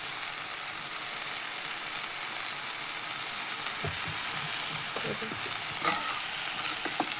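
Mushroom curry frying in oil in a pan, stirred steadily: a continuous close sizzle with soft scraping strokes and a few brief knocks near the end, and no voices.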